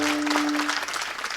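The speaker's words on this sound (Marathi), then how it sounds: "टाळी वाजवा सगळ्यासाठी एकदा जोरात" Audience at a Marathi kirtan clapping loudly on cue, a steady burst of dense applause that slowly thins toward the end.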